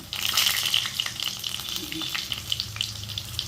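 Stuffed small brinjals sizzle steadily in hot oil in a pan, a continuous crackling hiss with faint stirring clatter over the sputter.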